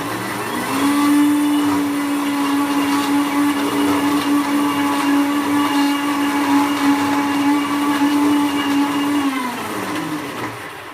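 A blender blending soaked dates roars continuously at full power, with a steady droning whir that holds for about ten seconds before easing slightly.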